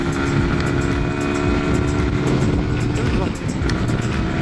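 A Lifan KPR 200 motorcycle running at speed around 110 km/h after shifting up to fifth gear, steady loud engine drone with heavy wind buffeting and a brief dip in tone.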